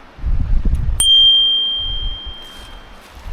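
A small, nearly invisible bicycle bell on an e-MTB gives a single bright ding up close that rings on and slowly decays, with faint handling noise before it.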